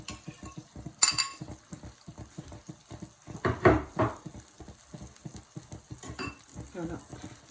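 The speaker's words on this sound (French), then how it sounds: "Là maintenant je rajoute un bol de sauce tomate." Soft sizzling and stirring as tomato sauce is added to a chicken meatball tajine, with rhythmic scraping of a utensil, light clinks of cookware, and a brief louder splash in the middle.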